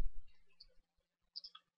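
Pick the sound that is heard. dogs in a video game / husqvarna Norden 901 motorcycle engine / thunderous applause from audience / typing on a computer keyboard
typing on a computer keyboard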